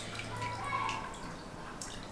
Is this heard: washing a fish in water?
yes